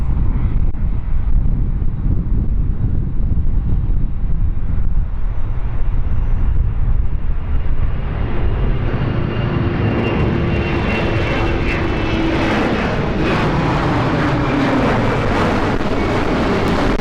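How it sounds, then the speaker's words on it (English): An ATR turboprop airliner spools up at London City airport, a loud broadband engine roar with a rising whine and a steady high tone coming in partway through, no voices. "We've got an ATR starting up"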